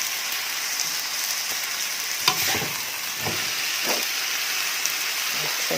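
Vegetables stir-fried in a pan for Thai-style drunken spaghetti, a steady close sizzle and hiss with a few clattering stirs and scrapes of the utensil, no talk.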